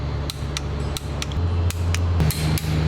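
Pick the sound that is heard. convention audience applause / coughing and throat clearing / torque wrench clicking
torque wrench clicking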